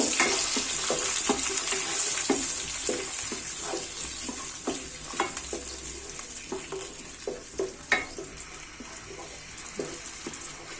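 Blended onion and tomato paste fries in a pan for a cauliflower roast, with a steady hiss throughout and frequent stirring scrapes and clicks punctuating it at close range.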